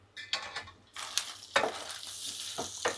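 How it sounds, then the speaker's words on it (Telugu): Minced mutton keema fries in a hot pan, with a soft continuous sizzle broken by scraping stirs and clinks of a utensil against the metal. "భలే ఫ్రై అవుతుంది"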